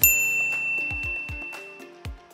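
A notification bell sound effect rings out as a bright ding, followed by several quick metallic chimes and clicks, clean and close against silence.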